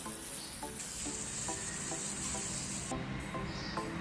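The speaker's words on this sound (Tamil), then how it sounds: "ஃபஸ்ட்டு சாம்பாருக்கு தாளித்து விட்டுக்கிறேன்" Spices tempering in hot oil for sambar give a steady, close sizzle and crackle, with a few soft stirring taps of a utensil against the pan and no speech.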